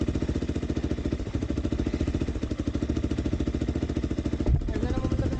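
A motorcycle engine runs steadily on a dirt trail, a close, even, pulsing chug that holds a constant rhythm throughout, with a brief bump near the end.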